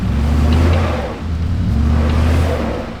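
A truck engine revs hard while stuck in mud on a farm, a loud sustained droning rev that dips briefly and climbs again, with no talking.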